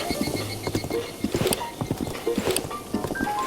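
Rhythmic hoofbeats of a horse galloping in the video game The Legend of Zelda: Breath of the Wild, quick repeated clip-clops at a steady pace, fairly close, with a faint tonal sound in the background.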